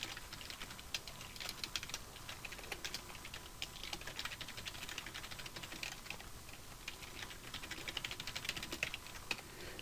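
Code for a Unity C# project is typed on a computer keyboard, rapid irregular key clicks continuing steadily and faintly throughout, with no voices.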